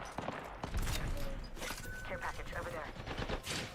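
Dense, rapid gunfire fills a Fortnite match, with repeated overlapping shots and mechanical clatter close and loud throughout.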